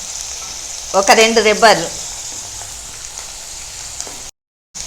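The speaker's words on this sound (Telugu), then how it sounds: "చిట్పట అంటున్నాయి నాన్న" Garlic and curry leaves spluttering in hot oil for gongura chutney, a close, steady frying crackle with a short burst of speech early on.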